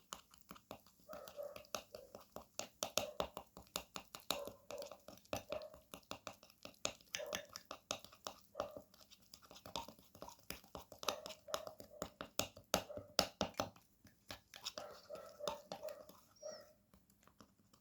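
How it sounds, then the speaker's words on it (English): Skin remedy ingredients being mixed with Vaseline, soft repeated scraping and squelching strokes in an irregular rhythm, faint and close throughout. "Now mix again all the ingredients together like so."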